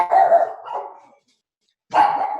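Hungry dogs bark nearby in two loud bursts separated by a short silence, the first burst trailing off before the second begins.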